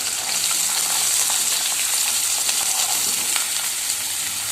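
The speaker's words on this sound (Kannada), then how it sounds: "ಕರಿಬೇವನ್ನು ನಾನಿಲ್ಲಿ ಸೇರಿಸ್ತಾ ಇದ್ದೀನಿ ಮತ್ತು ಈರುಳ್ಳಿ ಮೆಣಸಿನ್ಕಾಯಿನ ಸಹಿತ ಒಗ್ಗರಣೆಯಲ್ಲಿ ಸೇರಿಸ್ಬಿಡ್ತೀನಿ" Curry leaves, onion and green chillies fry in hot oil as a tempering for curd poha, a loud, dense, unbroken sizzle and crackle heard up close.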